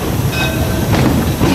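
Tourist train ride on a forest museum railway rolling steadily along the rails, a loud continuous rumble with faint wheel rattle and a brief squeal, no talking.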